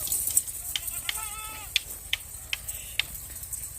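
Makhi Cheeni goats give a few short, wavering bleats, moderately close, over a ticking, clicking background and faint noise.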